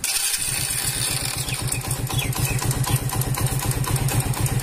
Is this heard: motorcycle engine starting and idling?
yes